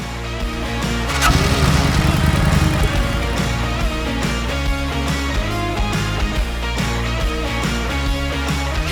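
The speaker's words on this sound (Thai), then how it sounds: "Kawasaki KLX 230 SM ซูเปอร์โมโตสายหล่อพร้อมลุย" A Kawasaki KLX230SM supermoto motorcycle engine fires up and settles into a steady, loud, close idle hum that holds without pause, with no talking.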